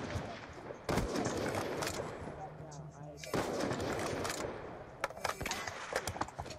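Repeated gunshots from a one-on-one video game match ring out in bursts, loud and close, with scattered sharp cracks mixed among dense game sounds and some talk.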